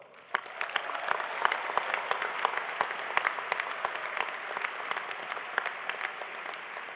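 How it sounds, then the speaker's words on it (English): A commencement audience gives a long, steady round of applause welcoming a new cohort of North Carolina educators, many hands clapping at once with sharp individual claps standing out from the broad wash, fairly distant and even. "I invite you to help me welcome this new cohort of North Carolina educators with a big round of applause."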